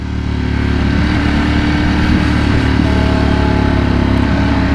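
A Suzuki Gixxer motorcycle riding through Houston with freshly changed oil, its engine droning steadily and close throughout, holding a constant mid-range hum with slight rises in revs and no talk.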